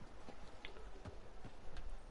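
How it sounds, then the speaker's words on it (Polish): Heavy rhythmic footfalls of a giant walking carrier machine in the Anthem video game, repeated thudding clops at a steady plodding pace, fairly faint with no talk over them. "Także to są te nasze wielkie machiny kroczące."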